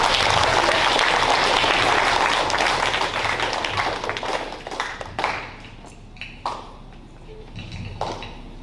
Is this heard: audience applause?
yes